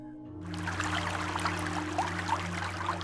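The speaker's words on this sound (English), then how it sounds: "The recording captured water running." Shower water runs in a steady hiss that starts abruptly and continues evenly, heard indoors over a low background hum.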